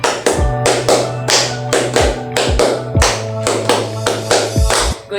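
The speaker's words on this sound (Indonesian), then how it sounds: "Tepuk 1, tepuk 2, tepuk 3, tepuk 4" Rhythmic hand clapping in a classroom lesson, a steady run of sharp, loud claps at roughly two per second, with a low hum underneath.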